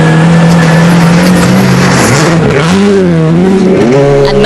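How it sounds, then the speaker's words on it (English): A rally car charges through a snowy WRC Sweden stage in 2006, its engine roaring loud and close with the pitch rising and dipping as it revs and shifts throughout. "Jani Tuohino already in the stage."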